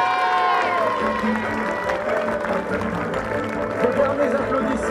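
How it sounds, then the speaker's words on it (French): Applause and cheering from an outdoor crowd saluting the podium of the French biathlon championship senior women's sprint, a steady wash of clapping with whoops and shouts throughout, mixed with voices and an announcer's talk. "De derniers applaudissements pour ce podium du championnat de France de biathlon Trophée Caisse d'Épargne"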